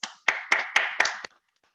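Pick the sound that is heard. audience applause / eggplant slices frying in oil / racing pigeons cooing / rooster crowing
audience applause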